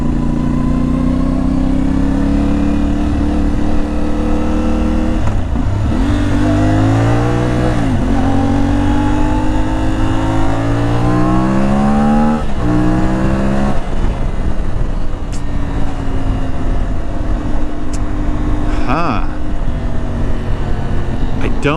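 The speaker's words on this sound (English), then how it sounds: "I love the exhaust sound." An IBEX 450 motorcycle exhaust drones loudly and close while riding, its pitch rising and falling through several shifts and throttle changes, with wind rush over a continuous engine note.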